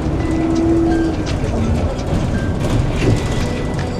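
Commuter train similar to an MRT line running on rails, a steady continuous rumble with faint rail squeals throughout, heard from inside the car with no talking.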